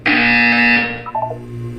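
A loud, sustained electronic buzzer from the Portal 2 video game sounds for about a second, a steady harmonic drone that tapers off into a softer hum.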